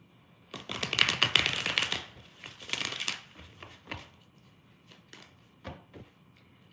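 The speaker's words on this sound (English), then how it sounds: "One more shuffle." Tarot cards being shuffled in a quiet room, a run of crisp riffling bursts and soft card slaps, loudest early then trailing into scattered taps, close and alone.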